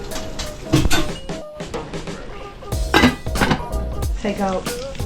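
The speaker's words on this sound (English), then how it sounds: "I'm gonna put a cover over this and let it simmer." Pot and lid clatter in a kitchen while pumpkin rice and fish cook, with sharp metallic clinks and clanks of a cover going on a cooking pot amid a faint sizzle, close and loud, with no talking.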